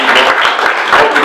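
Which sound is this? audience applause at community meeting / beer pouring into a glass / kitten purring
audience applause at community meeting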